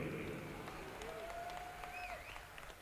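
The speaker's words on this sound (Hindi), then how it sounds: "आपकी ये तालियां जो हैं मेरे कानों में रस घोल रही हैं।" Audience applause rolls through a mushaira hall in Kamthi, Nagpur, a steady wash of clapping that continues under a voice addressing the crowd.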